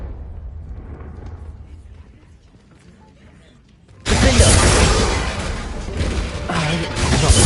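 A Confringo blasting spell goes off in Hogwarts Legacy: after quieter voices and rumble, a sudden loud, crackling explosive burst erupts and keeps roaring, with speech around it.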